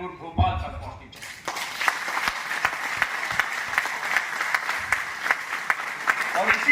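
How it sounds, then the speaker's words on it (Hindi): A political rally crowd breaks into loud, sustained clapping after a brief moment of speech, the dense applause continuing steadily to the end. "इतनी जोर की करतल ध्वनि होनी चाहिए कि आपकी तालियां 700 किलोमीटर दूर भोपाल तक पहुंचनी चाहिए।"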